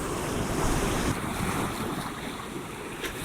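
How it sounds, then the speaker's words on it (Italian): Ocean waves break along a rocky coast in a steady, broad wash of surf, with wind buffeting the microphone throughout and no voices. "anche qui dovrò attendere le onde, ecco, come in questo caso"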